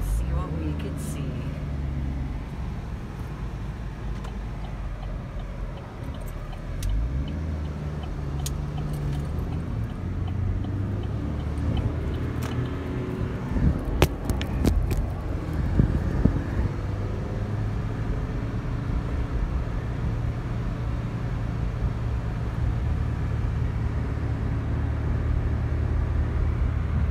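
A car with a manual stick-shift transmission rolling down a road, heard as a steady low engine rumble from inside, with engine pitch shifting between gears and occasional knocks and clicks, with voices talking at times.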